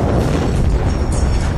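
Explosion of a burning gunpowder stockpile in an animated news graphic: a loud, dense, close rumbling boom that fills the whole moment without a break.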